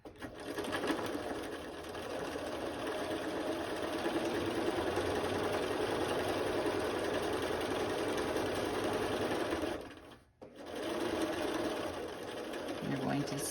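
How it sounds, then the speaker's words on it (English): A sewing machine runs at a steady, close whir, edge stitching about an eighth of an inch along a fabric lunch bag. The sound is continuous, with one brief stop near the end before it resumes. "You want to sew about 1/8 of an inch edge stitch."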